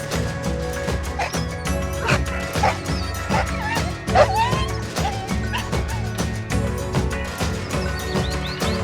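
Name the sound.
dogs barking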